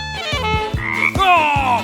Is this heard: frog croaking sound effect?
yes